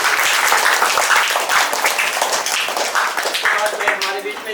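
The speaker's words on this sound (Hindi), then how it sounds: "सिस्टरों के लिए भी हम लोग जोरदार तालियां बजाएंगे" Loud applause from a gathered crowd at the inauguration of a Maa Maria Grotto in Karmatang, North and Middle Andaman, for the sisters, steady dense clapping throughout with voices mixed in.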